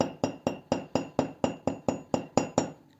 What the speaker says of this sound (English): pick up your hammer and put it on your hard surface, the wire, and then start to push with your hammer